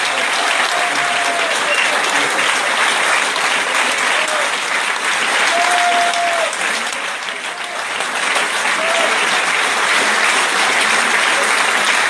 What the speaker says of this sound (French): J'aimerais bien que vous fassiez encore une grande salve d'applaudissements à Nathalie et François.